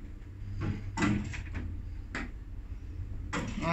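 Doors of an old four-storey elevator in the Wertheim building on Piotrkowska Street, Łódź, with outer doors fitted with a round window, opening and closing in a few broadband clunks and slides over a steady low hum.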